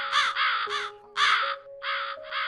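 Crows caw in a nearby tree, six harsh, raspy calls in quick uneven succession, loud and close over a faint steady background tone.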